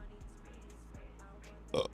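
A short, loud burp bursts out near the end, after a stretch of quiet room tone with faint low thumps.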